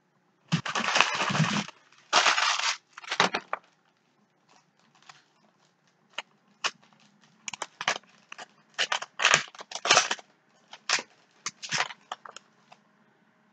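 Thick trading card packs, 2017 Certified Cut Signatures, are torn open in loud crinkly rips at the start, followed by scattered short foil crackles and rustles with quiet gaps between.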